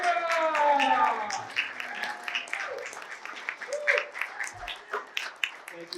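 Audience applause and clapping welcome a speaker onto an inspirational event stage, loud at first and then thinning into scattered claps while someone talks over it.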